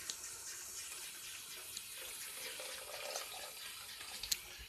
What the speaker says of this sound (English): I'm going to dump it out in the sink so I don't make a lot of noise